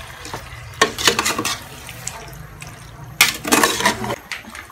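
Vinegar is poured while cooking Filipino halang-halang, giving two splashy bursts of liquid a couple of seconds apart over a quiet kitchen background.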